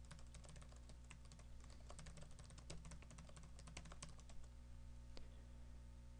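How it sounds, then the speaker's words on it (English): Typing on a computer keyboard: a steady run of quick, light key clicks at close range over a low electrical hum, with no talking. "type in my question here"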